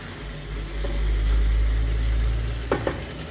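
Chicken being stirred in a hot pan while it dries out, a steady low sizzle with a couple of brief scraping knocks near the end, close and without talk.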